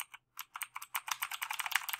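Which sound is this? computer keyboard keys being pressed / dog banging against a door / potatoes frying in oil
computer keyboard keys being pressed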